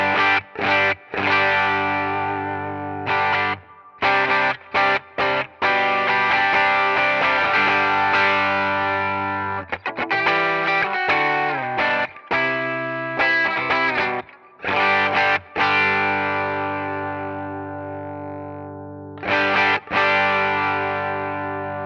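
An electric guitar through a Timmy overdrive in Helix Native plays sustained distorted chords alone, in choppy bursts with short silent gaps between phrases.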